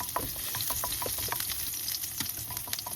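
Chopped garlic frying in a pan for Filipino adobong talong, a steady close sizzle with scraping stir strokes throughout, no talk.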